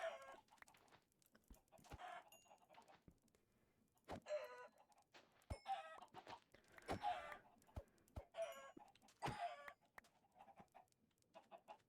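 Minecraft chickens clucking in short, irregular bursts, fairly close, with brief pauses between calls and no speech.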